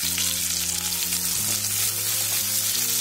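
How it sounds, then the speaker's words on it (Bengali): Chopped onions fry in hot oil with black cumin seeds and a dried red chili, a loud, continuous close-up sizzle over a low steady hum, and no one speaking. "পেঁয়াজটাকে আমি অল্প সময় ফ্রাই করে নেব।"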